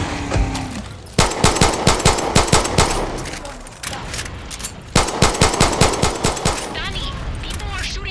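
Machine-gun fire rakes big fuel tanks at a port assault in Far Cry 6, rapid loud bursts of close automatic shots in two long volleys with dense echoing reports.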